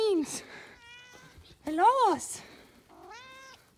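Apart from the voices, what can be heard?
barn kittens meowing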